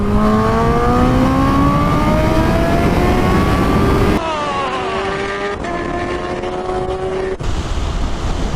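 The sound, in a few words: motorcycles accelerating hard from a rolling start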